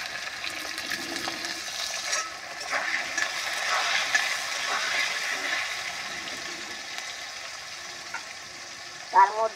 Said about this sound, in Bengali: এবার আলুটা ভেজে নেই।